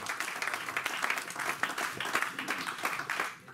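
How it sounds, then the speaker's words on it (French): A church congregation applauds and cheers together during a French-language sermon, a dense, steady wash of many hands clapping close up, with a few brief voices mixed in. "donnons une acclamation pour nous"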